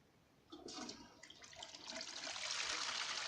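A toilet flushes close by, a rushing swirl of water that builds and keeps draining to the end.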